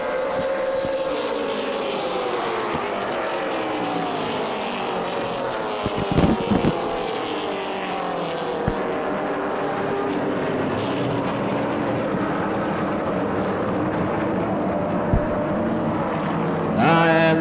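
Super late model race cars circle on warm-up laps, their engines a continuous droning roar with shifting pitch as they pass, steady and fairly loud with wind buffeting the microphone.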